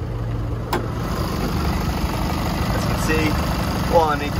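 A 2016 Holden Colorado LS pickup truck engine idling steadily with a low, even rumble and no unusual ticks, while a few faint higher sounds come and go.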